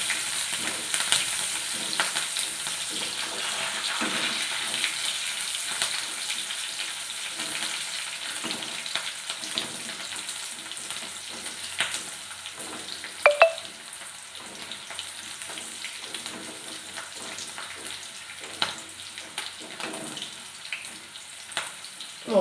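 Sliced onions and green chillies frying in oil with popping mustard seeds, a steady close sizzle with intermittent stirring scrapes and clinks throughout.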